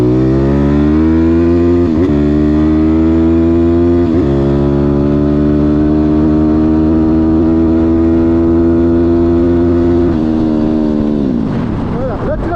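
A Zongshen 180 engine revs loudly and accelerates through gears, a close, steady droning roar with brief dips at shifts before easing off near the end.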